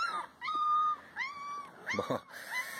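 Puppies whimpering with high, thin whines in several repeated bursts, close by, with a faint low growl-like grumble mixed in; no talking.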